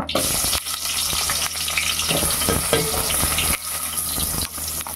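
Chopped onion hitting hot oil for a Telugu bendakaya (okra) curry, a dense steady sizzle with faint stirring clicks, close and continuous for the whole stretch with no talk.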